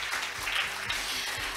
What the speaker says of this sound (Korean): 연사님들에게 다시 한번 큰 박수 부탁드리겠습니다